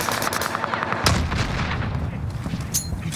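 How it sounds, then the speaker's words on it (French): A stun grenade goes off in a shooting video game, a sudden loud bang followed by a burst of rapid gunfire that carries on through the moment, with no voices. "Je lance une grenade paralysante. Grenade paralysante lancée."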